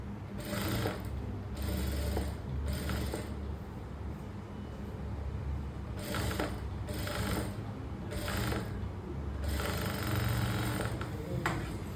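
Close, rhythmic mechanical clatter from a sewing machine stitching a folded crop top blouse, running in repeated short bursts with brief gaps, steady and fairly quiet, with no voices.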